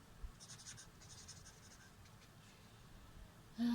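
A pen scratches out a mean formula by hand for a maths exercise, with short bursts of writing strokes close by and faint, followed by a brief louder knock at the end.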